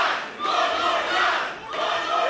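A wrestling crowd at an indoor show chants in loud rhythmic surges, two swelling waves of massed voices close and full.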